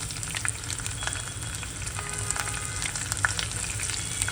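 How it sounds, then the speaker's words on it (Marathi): Green chillies frying in oil with cumin and mustard seeds for kanda poha, a continuous close sizzle with small crackles and pops and occasional stirring, no talking. "आता आपण ह्याच्यामध्ये मिरच्या पण टाकून घेऊया."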